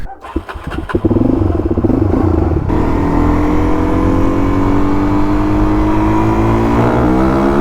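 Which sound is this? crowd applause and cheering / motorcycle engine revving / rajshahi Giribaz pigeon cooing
motorcycle engine revving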